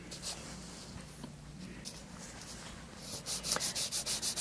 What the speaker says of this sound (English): we've talked about the filing